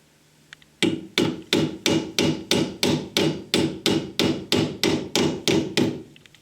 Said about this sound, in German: Dann können wir mal dezent mit dem Hammer anschlagen.